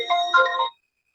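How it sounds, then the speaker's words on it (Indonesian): A phone ringtone from an incoming call chimes once in a short, bright melodic burst, loud and close, then cuts off into silence. "ini ada orang telepon"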